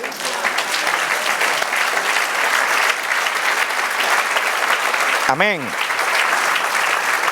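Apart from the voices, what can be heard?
congregation applauding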